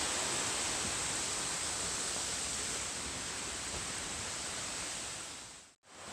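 A broad, not very powerful waterfall spread over many small falls on the Pacific Crest Trail, a steady wide hiss of falling water, fairly soft and constant, cutting off briefly near the end.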